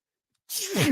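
A single sharp sneeze bursts out after a second of silence, close and fairly loud, with a breathy trailing exhale.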